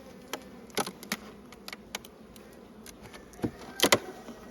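Honey bees around an opened hive, a grumpy colony being worked down toward the brood box, give scattered buzzes as individual insects zip close past, with several sharp near passes over a faint background hum and no talking.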